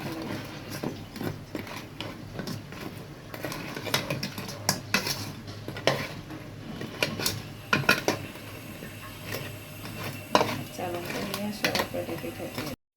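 Hot pitha stirred through cold sugar syrup in a pot, with dense clinking and scraping of a utensil against metal continuing throughout at close range.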